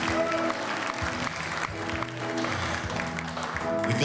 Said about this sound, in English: I want you to give yourselves a round of applause for making it so possible.